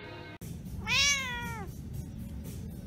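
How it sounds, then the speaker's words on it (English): A single cat meow, drawn out and rising then falling, sounds close and clear over a low background hum, with no talking. "Meow."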